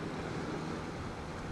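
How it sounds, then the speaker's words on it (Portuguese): Short-period sea waves roll onto the shore on a windy day, a faint, continuous wash of surf with wind noise and no distinct individual breakers. "a ondulação está a vir muito, muito em cima uma da outra"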